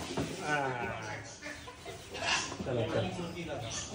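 A hen clucks in short bursts nearby while people talk over it, the clucks partly buried beneath the voices.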